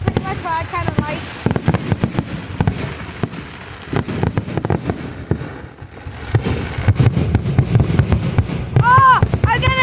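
Fireworks going off at an outdoor display in Ohio: repeated sharp bangs and crackling bursts, some close and loud, with whistling rockets and excited shouting voices throughout.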